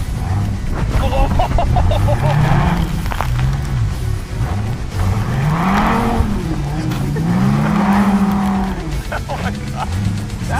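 A Dodge car drifts on a dirt course with loud, rising and falling tire squeal over a roaring engine. Excited voices shout from inside the car throughout.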